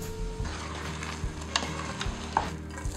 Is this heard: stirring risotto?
yes